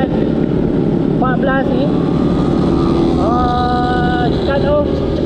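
A motorcycle fitted with a 14/39 or 15/43 sprocket runs at high speed, its steady engine roar and wind rush filling the whole stretch while a rider's voice talks over it.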